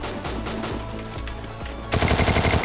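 Rapid automatic gunfire crackles in a shooter video game, a steady burst followed by a louder, sharper volley in the final second, close and alone without voices.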